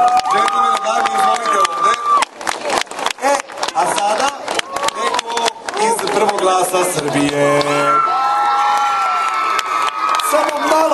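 Audience applause and cheering for folk dancers at a Serbian folk ensemble stage show in Sremska Mitrovica, loud crowd clapping and whoops mixed with music and a host's voice speaking over it.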